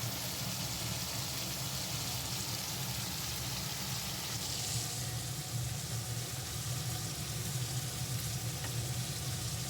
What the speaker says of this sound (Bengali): কড়াতে তেল নিয়েছি, সেটা খুব গরম হয়ে গেছে, এবং মাছগুলোকে একটা একটা করে সাজিয়ে দিচ্ছি, যেটা ভালো করে ভাজার জন্য